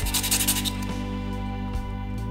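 Sandpaper shaping a handmade fishing float: a quick burst of rapid scratchy rubbing strokes at the start, then a fainter steady hum with occasional light scrapes, close up and without speech.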